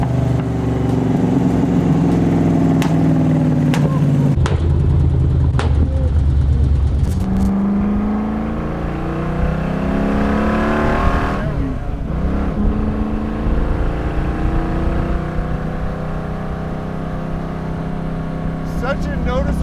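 A 1965 Shelby Cobra F.I.A. replica car underway, its engine droning steadily with shifting pitch as it pulls away and cruises, loud and close, with occasional voices talking over the engine.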